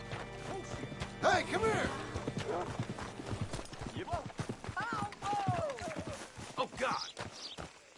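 Horse hooves clip-clop in Red Dead Redemption 2, a close, uneven run of hollow knocks mixed with brief game noises while a voice talks and exclaims over them.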